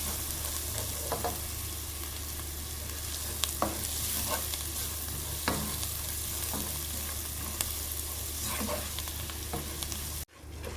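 Ground spices and turmeric powder being stirred in a hot pan for rice, a continuous dense sizzle with periodic scraping strokes of a spoon, ending in an abrupt cut near the close.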